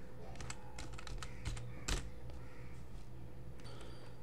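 A computer keyboard is typed on at close range while entering Python code, with quick bursts of soft key clicks, a firmer press or two, and a short pause before a few more taps.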